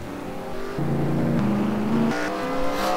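Race trucks running a truck series race, with several engines roaring loudly and their pitch shifting in steps as they pass and jostle, while an announcer's voice rides over the engine noise.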